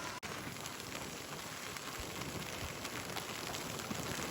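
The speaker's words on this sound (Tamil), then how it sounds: "மழை சாரல் இப்போ கொஞ்சம் குறைஞ்சுதான் பெய்யுது" Light drizzle falls outdoors in Jaffna, a soft, even wash of fine patter with an occasional faint drip, steady and moderately close, with no talking.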